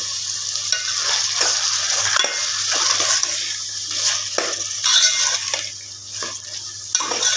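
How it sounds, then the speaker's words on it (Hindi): Keema mince frying with onion, turmeric and salt, a loud constant sizzle with repeated scraping and clattering of a spoon against the pan as it is mixed, close up and without speech. "अच्छी तरह से मिक्स करें"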